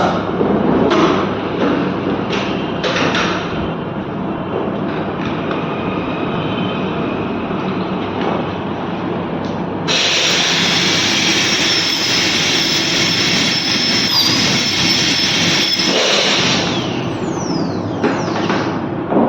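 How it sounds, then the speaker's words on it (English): A continuous high-pitched whine of a dental drill roughening a child's tooth runs throughout, shifting to a sharper, brighter tone midway, steady and close. "Only this much amount of drilling is required."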